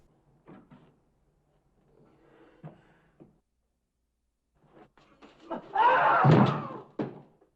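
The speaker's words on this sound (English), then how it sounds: "The door." A door slams shut in a 1950s film scene, a loud, sharp burst near the end after a few quieter thuds and movements, with no talk.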